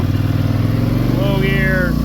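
A Polaris Sportsman 850 ATV engine runs in low gear, a steady close rumble with a rising whine partway through, alongside nearby talking.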